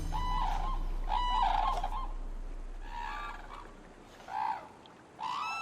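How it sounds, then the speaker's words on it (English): Cranes gathered at a river in Japan at nightfall, giving repeated trumpeting calls in a loose series, moderately distant and fairly faint over a low background hum. "As night approaches, the cranes gather in a river."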